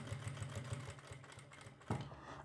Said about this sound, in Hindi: अब यहाँ से हम सिलाई लगाएंगे सिलाई बिल्कुल सीधी लगनी चाहिए